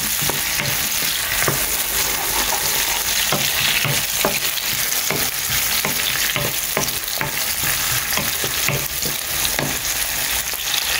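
Onions and chopped tomatoes frying in a pan for fish ambotik, with a loud, continuous sizzle and repeated clicks and scrapes of a spoon stirring them.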